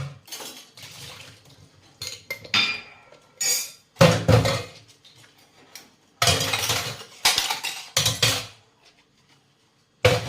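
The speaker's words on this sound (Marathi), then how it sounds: "थोडी थोडी भांडी घासून घ्यायची आणि लगेचच धुवून घ्यायची" Kitchen utensils and dishes being scrubbed and washed, with bursts of loud metallic clinks and clatter separated by short pauses, close by and without speech.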